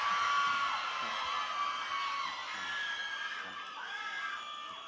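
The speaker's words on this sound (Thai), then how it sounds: "แทนไม่ได้ยินเสียงกรี๊ดให้ครูดังๆครับ" A crowd of students at a school freshy night event screams and cheers in a sustained, shrill roar that stays loud throughout.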